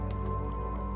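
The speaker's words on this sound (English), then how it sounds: "The stream of murky water flows straight into the middle of the fireplace. The flames spark and hiss, but don't go out." Murky water poured from a bucket into a fireplace fire in the video game The Bookwalker, a brief splashing pour with drip-like ticks over a steady tonal backdrop.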